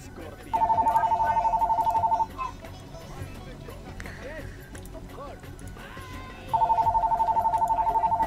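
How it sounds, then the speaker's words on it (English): A telephone rings in two long bursts of repeated electronic trilling, loud and close, one near the start and another near the end, with people talking and game sounds between them. "Is that your phone, Chris?"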